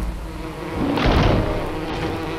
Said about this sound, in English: Oh, you naughty bees.